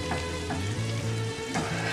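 Shrimp, tomato and onion sizzle steadily in a hot pan while being stirred together, a close, continuous frying hiss with soft scraping movements and no talking.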